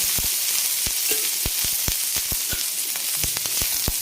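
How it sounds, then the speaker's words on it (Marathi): Onion roasting in a little oil on an iron griddle, a steady loud sizzle with sharp crackling pops scattered irregularly throughout, close by and with no voices. "कांदा लवकर भाजण्यासाठी थोडंसं तेल टाकून घेऊ"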